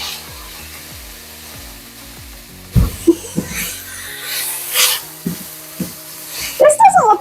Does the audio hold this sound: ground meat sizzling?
yes